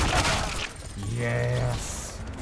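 A minigun in a video game fires a dense, rattling burst of gunfire up close at the start. The noise thins out as a voice talks over the rest of the clip.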